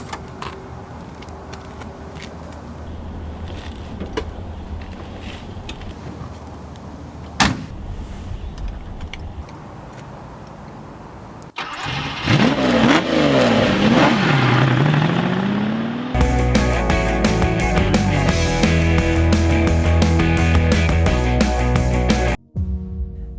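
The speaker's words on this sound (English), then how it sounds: "I'm driving a 1970 Lamborghini Miura S." A 1970 Lamborghini Miura S revving loudly, rising and falling engine pitch sweeps after a quieter opening, then a sustained high-revving roar that cuts off abruptly near the end.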